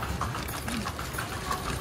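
Horse hooves clip-clop as a horse-drawn carriage rolls through Intramuros, a brisk rhythmic clatter on pavement amid street noise.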